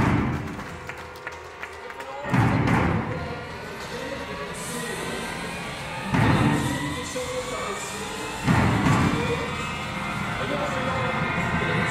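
Audience applause at a party, steady clapping from invited guests with bursts of louder claps and some voices mixed in, heard from within the room.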